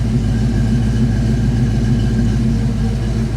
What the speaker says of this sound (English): Almost sounds like stock, and with the 3-chamber Flowmaster exhaust, it's neighbor friendly.